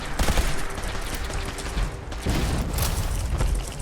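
Dense, continuous video-game gunfire from Fallout 4, a steady barrage of rapid shots with a short lull near the middle before it resumes, loud and close throughout.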